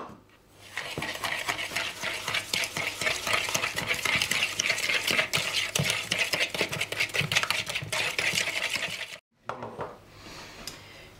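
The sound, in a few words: creaming butter and sugar in a bowl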